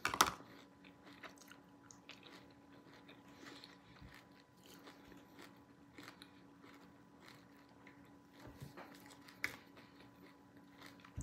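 Crunchy kunafa chocolate being bitten and chewed close up, a steady series of crisp crunches through the clip with one louder bite at the start, over a faint constant hum and no talking.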